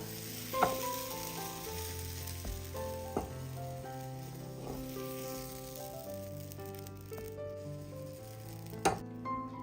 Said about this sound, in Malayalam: ഇനി ഇതിലേക്ക് ഒരു വലിയ സ്പൂൺ മാവ് ഒഴിച്ചു കൊടുക്കാം ഇനി മാവൊന്ന് ചുറ്റിച്ചു കൊടുക്കാം